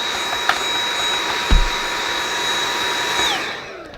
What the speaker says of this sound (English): I'm just going to use another vacuum cleaner to vacuum clean it up.